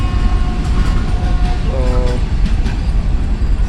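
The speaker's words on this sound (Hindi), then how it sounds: "ये चली गई जी 5 अब ग्रीन लाइन ओवरटेक करते हुए डबल ट्रेन को" A Green Line Express passenger train overtakes another train, its loud continuous rumble and rattling wheels filling the clip, with a brief tonal squeal in the middle and a voice speaking over it.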